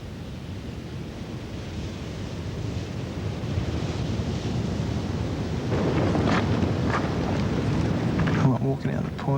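Ocean waves wash steadily at an offshore surf point in the quiet early morning on glassy water. The surf gives a continuous close hiss and rumble that swells a little louder toward the end, with wind buffeting the microphone.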